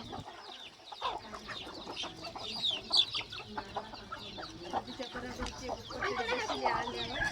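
Tall, long-legged, long-necked farm hens cluck softly and keep up a steady murmur close by, with a few sharper calls. People talk quietly over them in a farmyard.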